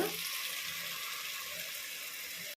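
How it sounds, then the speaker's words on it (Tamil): Eggs boiling in a pot of water for brinji rice, giving a steady, soft bubbling hiss that holds evenly throughout with no talking. "முட்டை வேகுது"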